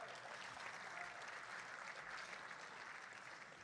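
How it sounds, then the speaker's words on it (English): Steady, sustained applause from a banquet audience at a hockey awards dinner, even and continuous throughout with no voices rising above the clapping. "Go ahead and clap."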